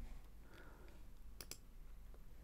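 A computer mouse clicks twice in quick succession while Ycode animation settings are being adjusted, two sharp, close, fairly faint clicks over a low steady room hum.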